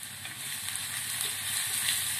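Sliced garlic and onion sauté in a hot pan, giving a steady, close, continuous sizzle with no voices.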